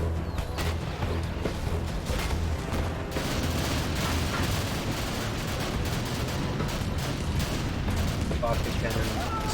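Cannons firing on infantry in Command and Conquer: Generals, a dense, continuous barrage of crackling gunfire and booming artillery at moderate volume, with a voice commentating over the battle.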